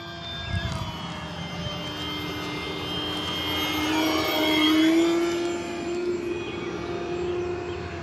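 An FMS Maule 1500mm RC model airplane flying in normal flight mode, its electric motor giving a steady high whine that rises and falls slightly in pitch as it passes, moderately distant, with no talking.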